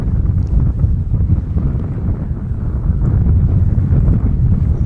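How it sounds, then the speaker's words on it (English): Strong wind buffeting a microphone on an exposed, blustery hilltop, a loud, continuous low roar with gusty fluctuations and no voices. "it really is a little bit on the blustery side up here"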